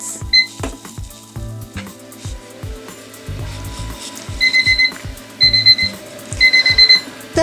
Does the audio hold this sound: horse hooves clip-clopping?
no